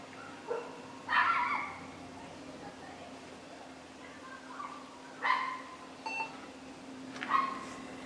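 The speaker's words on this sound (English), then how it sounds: "I don't know how you can own an ankle biter dog like that. Barking would drive me up a wall." A small dog barks in short separate bursts, three or four yapping volleys at a moderate distance over a steady electrical hum, with quiet gaps between them.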